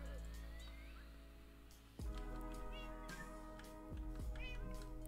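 A cat in the Minecraft video game meows several times in soft, high calls over a background music track, with a few sharp thumps in between.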